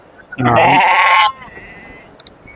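A lamb of about three and a half to four months old at the Kookanapalli livestock market gives one loud, close bleat lasting nearly a second, followed by faint background chatter and a couple of short clicks.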